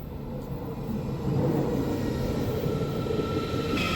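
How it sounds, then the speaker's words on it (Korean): A train on the Jungfrau line in Switzerland rumbles steadily as it pulls in, a continuous low roar with a faint higher whine, fairly close and loud throughout. "마지막 열차 탑승"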